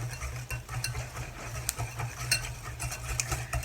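Apple cinnamon donut batter being mixed in a bowl, with a steady close scraping and stirring and occasional light clinks of the utensil against the side, under a low constant hum.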